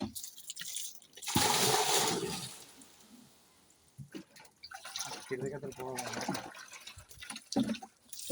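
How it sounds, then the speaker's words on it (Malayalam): Water being moved from a fish pond into three tanks, splashing and gushing in bursts with trickles between, while people talk over it nearby. "ഈ വെള്ളം ഞങ്ങൾ മൂന്ന് ടാങ്കിലോട്ട് മാറ്റുവാണ്"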